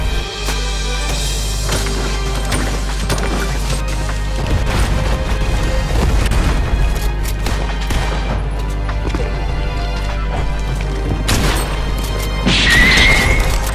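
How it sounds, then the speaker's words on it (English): Chaotic Fortnite battle with dense bursts of gunfire, crashes and impacts going on continuously at a loud, busy level, and a bright swelling effect near the end. "I'm getting shot at"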